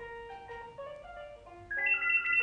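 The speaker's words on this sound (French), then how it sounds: "c'est le téléphone qui sonne" A phone ringtone plays a stepped electronic melody of clear tones that climbs higher and louder toward the end, with no voices over it.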